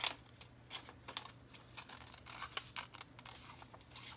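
Scissors fussy-cut around a paper princess figure for a journal, giving a string of quiet, uneven snips and paper rustles close by over a low steady hum.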